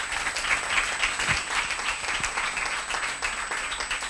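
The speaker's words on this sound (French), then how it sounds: "Est-ce qu'on peut les applaudir réellement?" Sustained applause from an audience, a dense wash of many hands clapping at an even level throughout.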